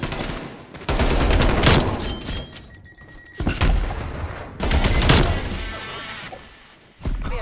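Call of Duty Cold War gameplay: bursts of rapid automatic gunfire come in several sharp, loud volleys separated by short pauses, with booming impacts.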